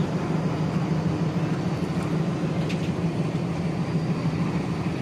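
A WDS6 diesel shunting locomotive from Singrauli runs steadily nearby, its low engine hum and rumble holding constant without letup, with a faint higher whine above it and no voices.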